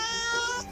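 A single brief, drawn-out cat meow inside a warehouse, steady and tonal, fading at the end.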